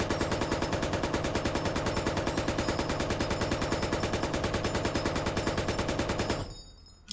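The armor-piercing gun mounted on a BTR vehicle in Squad hammers out a long, steady stream of heavy automatic fire at an even rhythm, loud and close, then stops abruptly.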